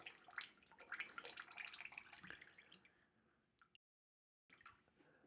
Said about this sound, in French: Regardez ça, le liquide qui en sort.